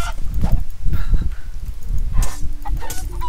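A video game chicken clucks and squawks in short bursts over a dense, busy mix of game sounds, fairly loud and cut through with repeated honking bird calls.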